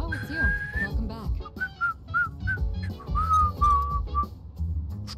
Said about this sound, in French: Je commence à faire des progrès en sifflement.